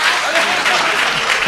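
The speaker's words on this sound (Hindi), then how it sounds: "जोरदार तालियां एक बार जहाज देवबंदी साहब के लिए" Audience applause rings out at a mushaira poetry gathering, a steady, dense clapping from a crowd that stays loud and unbroken throughout.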